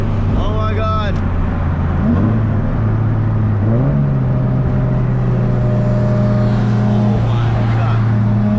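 Supercars cruising together on the road, with loud engine drones and revs rising and falling as cars pass close by. People talk over the steady traffic roar.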